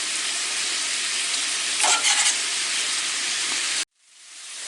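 Green beans and onions fry in bacon fat with a loud, steady sizzle and hiss, a brief stirring clatter near the middle, then the sound cuts off abruptly and a fainter sizzle fades back in.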